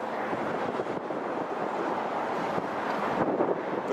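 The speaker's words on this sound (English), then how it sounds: "Quite blustery up here, it has to be said. Quite" Blustery, nippy wind buffets an outdoor microphone at London Heathrow Airport, a steady broadband rush with gusty swells throughout and no voices.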